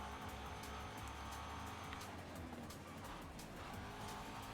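A car in the Forza Horizon 5 racing game brakes hard during a race, with a steady loud engine roar and tire squeal running continuously under the whole stretch.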